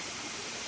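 A waterfall on Phu Kradueng mountain in Thailand rushes as a steady, even broadband hiss, soft and distant with no breaks or distinct splashes.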